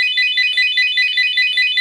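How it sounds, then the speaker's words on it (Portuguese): An FKS FK905 car alarm with presence sensor wails in a rapid warbling pattern, loud and continuous, repeating its cycle with no voices. "Disparou o alarme"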